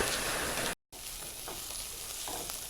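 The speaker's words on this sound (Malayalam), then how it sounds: "പാന് അടുപ്പത്ത് വെച്ച് സൺഫ്ലവർ ഓയിൽ ഒഴിച്ചിട്ട് കുറച്ച് കട്ട് ചെയ്ത് ചെറുതായി കട്ട് ചെയ്ത് സവാള ചേർത്ത്" Chopped onion frying in sunflower oil in a pan, a steady close hiss and crackle of sizzling that cuts out briefly, then resumes with faint stirring scrapes, no voices.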